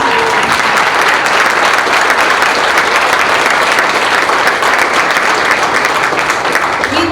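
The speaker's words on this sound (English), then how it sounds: "You deserve a round of applause." Loud, sustained applause from a large audience at a football stadium naming ceremony, steady clapping throughout with no break.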